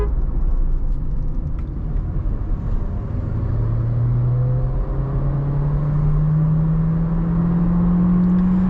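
A Volkswagen Virtus sedan drives and accelerates, its engine note climbing steadily as it picks up speed over a loud, continuous road and tyre rumble heard from inside the cabin, with no voices.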